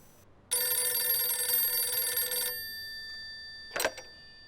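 A telephone bell rings loudly and steadily for about two seconds, then stops; a short clattering burst follows a moment later, with no voices.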